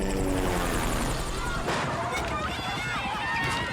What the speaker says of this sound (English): That's his helicopter landing